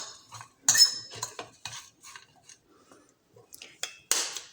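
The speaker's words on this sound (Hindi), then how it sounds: "सबसे पहले तो हम इनको अच्छे से मिक्स कर लेते हैं।" Spoon clinks and scrapes against a bowl while onion, salt, cumin and spice powder are stirred together, a run of short irregular clatters with quiet gaps, close by and without voices.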